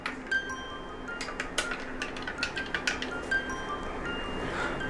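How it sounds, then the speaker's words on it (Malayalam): A spoon stirring raw green mango juice with a slit green chili in glasses, producing quick, light clinks and taps against the glass in an irregular rhythm, close up and without talking. "ഇളക്കി കൊടുക്കാം"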